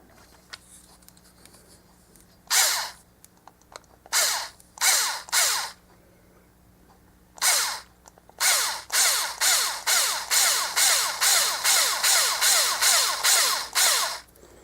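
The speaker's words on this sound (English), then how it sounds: "Got my little electric screwdriver here." A small electric screwdriver whirs in short bursts, a few spaced pulses at first and then a rapid run of repeated short spins, close and fairly loud, during coin ring making with Teflon tape.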